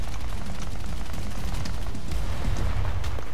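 Heavy booming shots from a 75mm tank cannon mounted on a B-25 Mitchell bomber in War Thunder, deep blasts rumbling under constant loud engine drone, with a few sharper cracks near the end.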